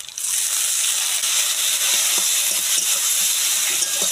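Water poured into a pan of frying spice paste of turmeric, chili powder and roasted cumin powder bursts into a loud, sustained hiss of sizzling and steam that holds steady throughout.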